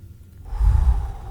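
A voice mimics one slow, heavy breath, starting quiet and swelling into a deep, rasping exhale up close.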